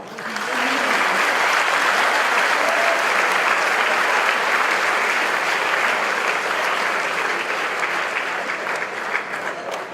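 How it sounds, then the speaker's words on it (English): Sustained audience applause after a lecture by Dr. Johanna Blakley at a Think Again 2014 event, loud and dense, holding steady for the full length with no voices on top. "Please join me in a round of applause for her."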